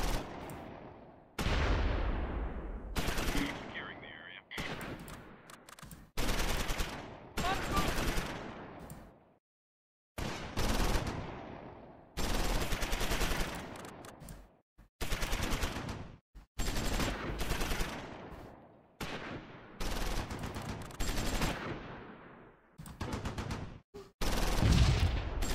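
Combat in Close Combat 5 on the Normandy landing beaches at Quinéville and Uncle Red. Repeated bursts of gunfire and explosions, each several seconds long, break up long stretches that fall to near silence.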